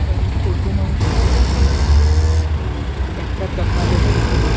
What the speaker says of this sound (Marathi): एवढं ट्रॅफिक